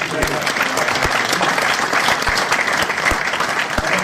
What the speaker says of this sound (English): We should give them an applause.